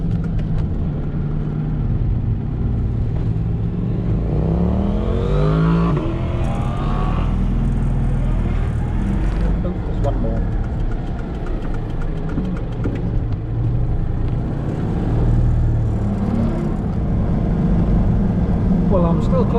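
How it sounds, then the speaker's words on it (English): Cars pass by on a mountain road with hairpin bends in the Pyrenees, engines rising and fading over a steady rumble with wind noise, while someone talks over it. "Turn off and let these cars go past."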